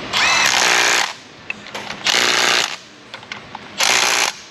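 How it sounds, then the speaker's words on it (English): A power tool drives bolts to fasten a pump during subframe assembly on a 2007 Chevrolet Monte Carlo SS 5.3, three loud whirring bursts close by separated by small clicks and handling noises. "let's go ahead and get this pump bolted down"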